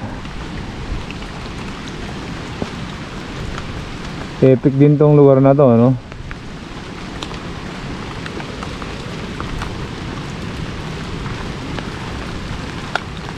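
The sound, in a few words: rain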